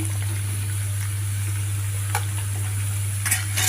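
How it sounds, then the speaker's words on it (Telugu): Pieces of ridge gourd sizzle in a hot tempering of spices, giving a continuous close crackle over a low steady hum, with a few sharp spatula clicks. "బీరకాయ ముక్కలు కూడా ఈ పోపులో వేసి కొద్దిగా ఉడికించుకోవాలి"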